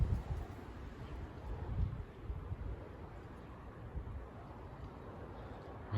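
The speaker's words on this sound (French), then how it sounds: "c'est un 1er avril particulièrement venteux en flux de nord-est" Gusty north-east wind (bise) on a particularly blustery April afternoon, tossing a walnut tree; low rumbling buffets against the microphone surge and ease in waves, with a steady rushing hiss beneath.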